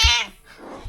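A cat gives a single loud, close meow right at the start, fading into quiet room noise, indoors at home beside plumbing pipe meant for a garden summerhouse.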